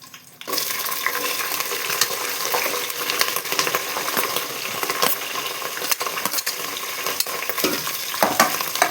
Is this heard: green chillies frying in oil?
yes